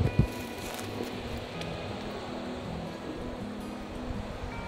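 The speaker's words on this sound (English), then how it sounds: "I apologize for the wind. It's very windy today." Steady wind roaring and buffeting the microphone, a constant broadband rush with low rumbling gusts throughout and no voices.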